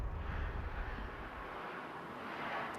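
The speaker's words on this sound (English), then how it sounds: "As a plane lands behind me" A plane coming in to land at Heathrow Airport, a steady broadband engine roar that is loud and sustained throughout, with some rumble and wind-like noise and no talking.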